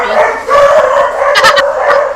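Several dogs outdoors bark and howl together in a loud, continuous chorus, overlapping yips and sustained howls close by, with no speech over them.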